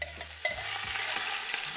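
Cumin seeds toasting in a generous pour of hot oil, a continuous bright sizzle with a few soft spoon scrapes and taps, close and fairly quiet.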